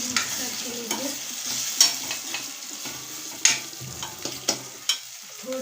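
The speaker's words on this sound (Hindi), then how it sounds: "अच्छे से मिक्स करके लेंगे।" A spatula stirs egg chutney masala of red chilli powder, coriander powder and onion-garlic masala in a frying pan, with soft scraping strokes over a steady sizzle and a few sharper clinks against the pan, close up and without talk.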